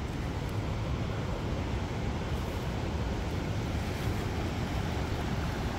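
A steady, loud rush of fast-flowing creek water coming down from the mountain continues without a break, full and roaring, with no voices over it.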